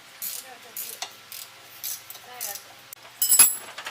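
A ratchet backs a bolt out on a 1993 Chevy S10 pickup after a soak of PB Blaster penetrant, giving a series of quick, close metallic clicks in short bursts, with a louder clatter near the end.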